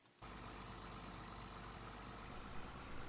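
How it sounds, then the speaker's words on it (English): A tractor engine in Farming Simulator 17 drones steadily at a low idle-like pitch as it slowly pulls away, loud and continuous with no talk. "This tractor here is so slow about taking off."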